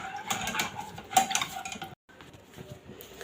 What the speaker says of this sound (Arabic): هنفضل نقلب بالشكل اللي انتوا شايفينه ده